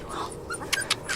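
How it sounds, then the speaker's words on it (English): Rescued fluffy puppies give soft, high whimpers and yips in a few short bursts, close and fairly quiet, with no talking. "Those are some hairy puppies."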